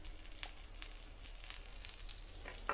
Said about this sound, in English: I'm going to put a little bit of butter down into the middle of the griddle here